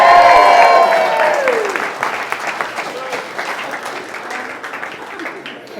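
Wedding guests applaud during the speeches, a dense burst of clapping that starts loud and gradually thins out, with a voice chiming in briefly near the start.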